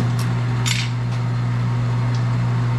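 A Sunnen hone machine runs steadily while lapping bearing steel, a loud constant motor hum with a few faint metallic ticks and clinks on top.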